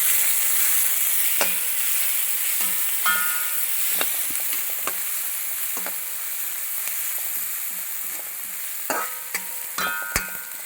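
Curry leaves frying in hot oil for Kerala-style upma crackle and sizzle steadily while a spoon scrapes and taps the pan in irregular strokes, close and clear, with no talking.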